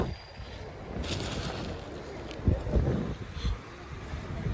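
Steady wind blows outdoors beside a river at Kulathupuzha where fish are being fed, making a continuous broadband rush with a few louder gusts and buffets near the end.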